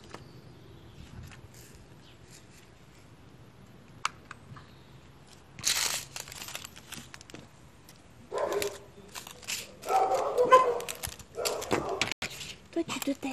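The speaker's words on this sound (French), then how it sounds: "On a le chien des voisins" A neighbours' dog barks in short bursts in the background, faint and somewhat distant, mixed with people talking nearby and small handling noises indoors.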